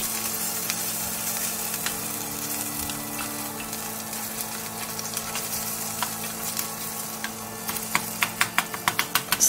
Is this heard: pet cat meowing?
no